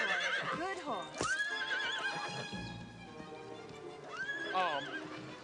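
A horse whinnies loudly twice with wavering high neighs, and hooves shuffle and clop nearby between the calls. Someone speaks softly to the animal underneath.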